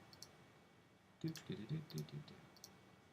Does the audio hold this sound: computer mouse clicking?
yes